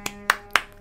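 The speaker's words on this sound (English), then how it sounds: "Claps for that." Four sharp hand claps, evenly spaced and close, each a bright burst with a quick decay, ringing out on their own with no talk.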